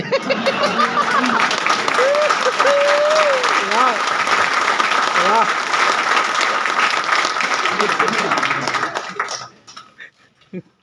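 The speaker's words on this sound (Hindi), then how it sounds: "उन पर अच्छी ताली बज रही है।" Loud, sustained applause fills the hall at a poetry recital at a railway training institute in Ghazipur, honouring teachers and trainers. Voices are heard over the clapping, which rolls on for about nine seconds before fading quickly to quiet.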